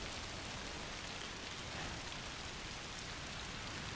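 Rain falls steadily in the video game A Plague Tale: Requiem, a soft, even, continuous wash of drops with nothing else standing out.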